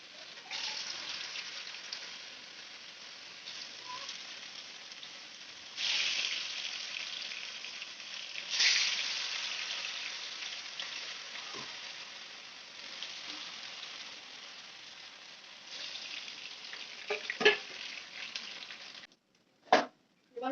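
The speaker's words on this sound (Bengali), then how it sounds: "এরপর সাবুর বড়াগুলো গোল গোল বড়ার আকারে গরম তেলের মধ্যে দিয়ে দেবো।" Sago vadas frying in hot oil in a frying pan give a steady close crackling sizzle that swells in bursts and ends with a few sharp clatters.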